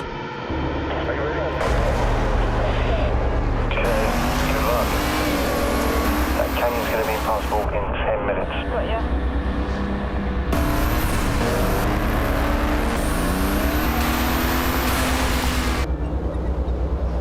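A car drives through water up a spillway, its engine roaring loudly and continuously with surging revs and heavy splashing over rushing water, while people talk over the noise.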